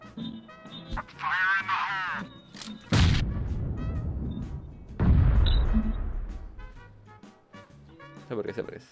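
Two heavy grenade blasts go off in a video game, each a loud, broad boom with a rumbling tail, the second a couple of seconds after the first, with talk before and between them.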